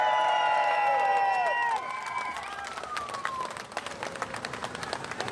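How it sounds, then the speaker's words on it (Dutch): At an outdoor freedom-march rally in Amsterdam, crowd clapping and cheers rise as sustained tones fade out, with scattered sharp claps growing denser and some shouting mixed into the noise. "Applaus voor Michel Rijnga!"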